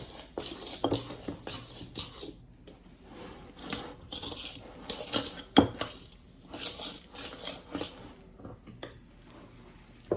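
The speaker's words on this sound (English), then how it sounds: "when you're mashing the bananas, you're gonna wanna keep your fork flat and just use your muscles and push down" A fork held flat mashes ripe bananas in a bowl for banana bread muffins, giving repeated close clinks of metal against the dish with soft squishy presses between them.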